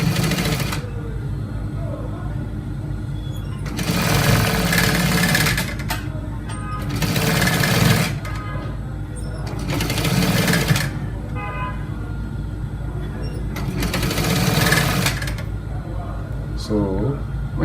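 Sewing machine stitching a trouser pocket, running in four short bursts of whirring separated by pauses. The bursts sit over a low background hum.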